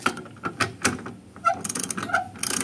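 A socket wrench ratchets in short clicking bursts while a Suzuki DA17V's stock spare tire is tightened into place, each run of metallic clicks close and fairly loud with small pauses between strokes.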